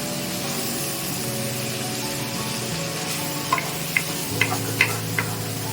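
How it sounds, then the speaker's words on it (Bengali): Marinated chicken pieces sizzle in a pan with onion and capsicum for a dhaba-style tawa pulao, a steady close frying hiss broken by a few sharp clicks of a spoon stirring against the pan, with no voices. "আগে থেকে ম্যারিনেট করা চিকেনের পিসগুলো সেগুলো আমরা অ্যাড করে দিলাম এবং ভালোভাবে নাড়তে থাকলাম"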